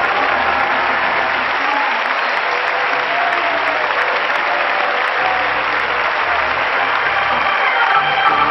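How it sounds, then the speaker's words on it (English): Dense, sustained hand clapping from a church congregation during a lively worship service, loud and steady throughout with a faint crowd murmur underneath. "clap your hands unto the Lord and shout unto God."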